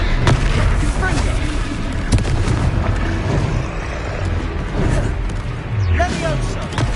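A Confringo fire spell in Hogwarts Legacy bursts with booming explosive thuds and crackling blasts amid a busy, loud combat din, with a voice shouting spell names over it.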